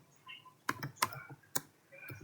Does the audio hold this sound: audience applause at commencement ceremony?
no